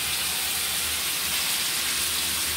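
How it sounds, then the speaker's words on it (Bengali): Steam hisses steadily from a cooking pot of pabda fish curry with cauliflower and potato once the lid comes off, a close, even broadband rush with no break throughout. "ঢাকনাটা এখন তুলে নিব।"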